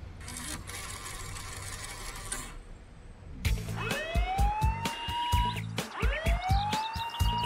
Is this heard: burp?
no